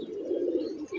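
A homing pigeon coos once at its loft, a soft, low, drawn-out call heard up close with no one talking.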